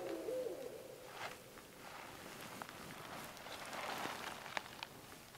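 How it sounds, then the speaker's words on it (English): An owl gives a faint, low hoot near the start, heard at a distance in quiet nighttime woods on rural property in Missouri, followed by soft rustling background noise. "Those are the strangest sounding owls I've ever heard."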